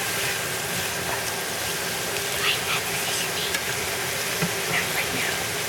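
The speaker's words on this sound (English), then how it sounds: "We're sauteing right now." Vegetables for albondigas sautéing in a pan, giving a steady, loud sizzle with occasional faint scrapes of stirring; the frying noise runs continuously throughout without talk.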